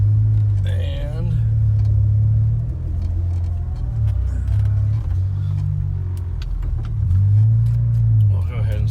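A Honda car drives during data logging, its low engine rumble steady and close inside the cabin, with a voice talking over it near the start and end.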